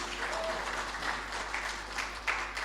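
A small room breaks into applause, a steady wash of clapping hands that lasts a few seconds with no voices over it.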